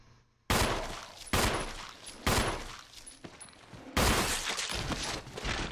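Gunshots aimed at a zombie in Resident Evil. Five loud, separate reports come about a second apart, each a sharp crack with a short ringing tail.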